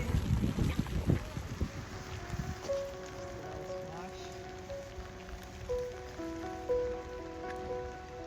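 Steady rain patters on an umbrella during a soggy hike along a coastal walking trail, a broad continuous hiss with denser drumming early on, while voices talk intermittently over it.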